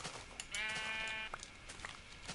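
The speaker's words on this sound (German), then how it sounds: "Ich sehe Schafe." A single sheep in Minecraft bleats once, a wavering mid-length bleat standing out over quiet game background noise.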